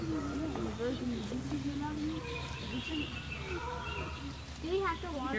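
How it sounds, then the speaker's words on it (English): Birds chirp and call here and there at a moderate distance during a total solar eclipse, over a low, steady hum, with faint voice-like tones in the background. "The birds are waking up."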